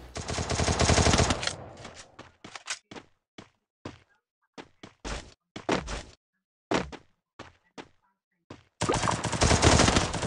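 Bursts of automatic gunfire from a video game shooter, loud sustained volleys at the start and end with rapid short shots and pauses in between, no talking.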